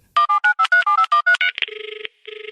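A telephone number is dialed as a quick run of about ten clear beeping tones, followed by a steady ringback tone with a short pause in between.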